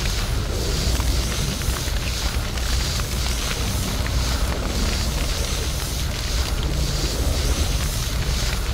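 Water hose on a fire truck spraying in the video game Flashing Lights, a steady, loud rushing wash that runs without a break from start to finish, with no voices.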